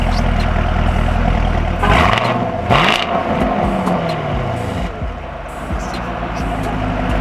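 Loud, throaty engine of a 2021 Chevrolet Camaro SS 1LE with manual clutch, revving and burbling up and down close by, with people talking over it.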